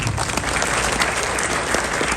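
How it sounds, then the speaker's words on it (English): A crowd at an institute talk in Vancouver gives a loud, dense round of applause for a retired fighter, steady clapping that fills the whole moment. "Round of applause for the Habib."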